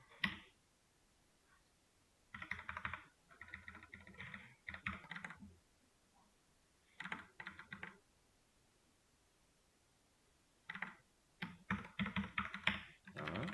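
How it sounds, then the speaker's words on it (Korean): Quiet keyboard typing in several bursts of rapid key clicks, separated by stretches of near silence, close and soft. "이건 그냥 제가 타이핑을 할게요."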